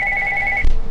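A telephone rings with a steady electronic tone, one continuous near and fairly loud burst that cuts off partway, followed by faint room noise.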